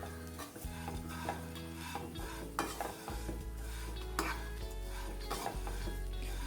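Vermicelli fries in a pan for kunafa while a spoon stirs it, giving a soft steady sizzle broken by scraping and clinking strokes against the metal, close and without talk.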